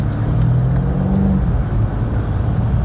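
A BMW M5 Competition F90 driving over a slightly bumpy paved road, heard from inside as a loud, steady low engine and road rumble throughout with no talking.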